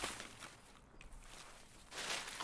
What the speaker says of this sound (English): I'm definitely hearing footsteps.